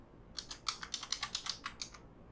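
A computer keyboard clatters in a quick burst of about a dozen light keystrokes over two seconds, close and fairly quiet, with no voices.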